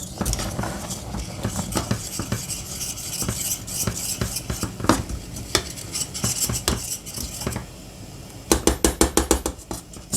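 A utensil scrapes and clinks against a pot while homemade Danette-style dessert cream is stirred, with steady irregular taps ending in a quicker rhythmic run of clicks, close and without speech.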